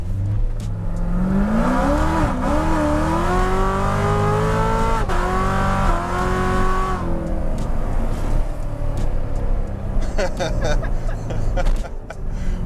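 A built C7 Corvette Z06 pushing 816 horsepower pulls hard through a long rising rev, heard from inside, loud and steady, then backs off to a rumble as voices talk over it.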